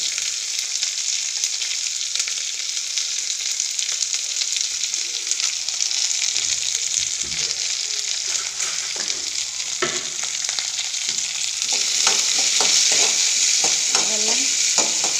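Garlic, small shallots and half a big onion sautéing in a pan: a dense, bright, steady sizzle throughout, with stirring scrapes and knocks growing busier toward the end, close up and loud, a single brief spoken word in passing.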